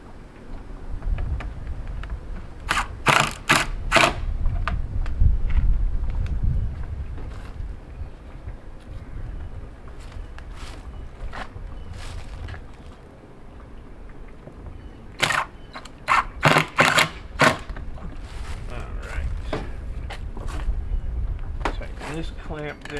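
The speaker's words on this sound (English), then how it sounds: "And I'll tighten the clamps down again." Clamps being tightened down on gold recovery lab equipment, heard as close clusters of sharp clicks and snaps in two bursts over a low, rumbling background.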